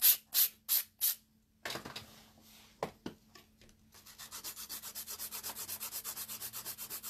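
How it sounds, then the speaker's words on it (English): An acrylic nail is filed with a 100 grit file, giving rapid rhythmic scratchy rasping strokes close up. A few separate swipes come first, then a quieter pause with taps, then a quick, steady run of short strokes. "So I'm going to take a 100 grit file. Going to remove the sharp edges off the file"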